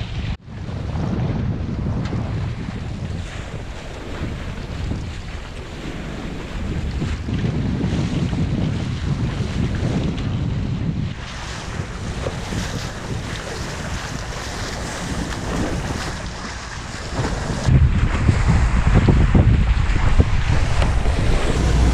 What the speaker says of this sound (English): Probably a bit windy, as you can hear.